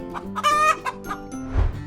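A chicken clucks and squawks in a few choppy bursts, close by, followed by a soft low thump.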